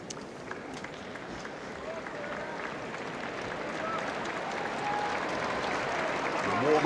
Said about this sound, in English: A warm applause for Angelique Kerber, for both players.